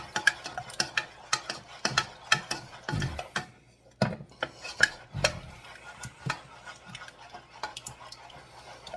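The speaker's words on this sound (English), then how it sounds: "Now you want to keep stirring" Utensil stirring scrambled eggs with melting butter in a pan over heat, English style; irregular scraping clicks and taps close by, with a faint sizzle underneath and brief quiet gaps.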